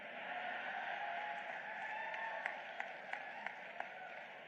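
An audience at a library inauguration lecture claps in a steady, fairly distant wash, with a few sharper individual claps standing out near the end.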